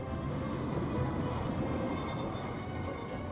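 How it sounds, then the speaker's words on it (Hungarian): A tram rumbles past in the video game Syberia: The World Before, a continuous, low, rolling rail noise that stays steady and fairly prominent throughout. "Ezt most meg kellett nézni, hogy jön a villamos."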